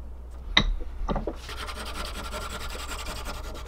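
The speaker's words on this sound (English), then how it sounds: "That was like 15 extremely light scrapes" A small wooden glide bait having a joint cut by hand, light repeated rubbing scrapes, a couple of distinct strokes early and then a steady close rasping that continues to the end.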